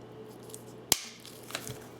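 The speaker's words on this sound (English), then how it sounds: "You want some strong type of scissors to cut because you're cutting through wire." A single sharp snip of scissors cutting through flower wire for a flower crown, followed by faint clicks and handling noises, with another snip at the end; quiet and close.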